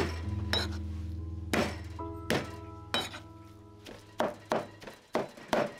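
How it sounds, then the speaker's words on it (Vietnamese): A kitchen knife smashes raw shrimp flat on a cutting board, about nine sharp, close thuds at an uneven pace over a steady tonal background hum. "Bây giờ mình sẽ dùng dao để đập tôm ra."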